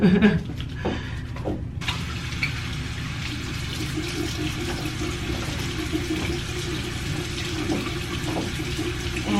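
Water runs from a tap in a steady splashing stream, close by, with a brief clatter at the start.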